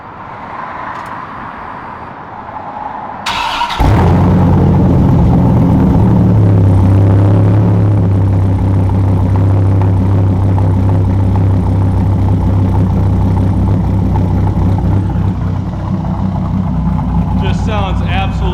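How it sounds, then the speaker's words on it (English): A Dodge Viper RT/10 with an X-pipe exhaust cold starts, cranking and firing up loudly, then settles into a deep, steady rumbling idle with a low drone throughout. "this car has an X-pipe, and it sounds unlike any other Viper out there"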